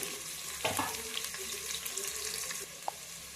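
Onions with green chillies stirred in a pan for a village-style country chicken curry, a faint continuous hiss with soft spoon scrapes and occasional light clinks, steady throughout with no talking.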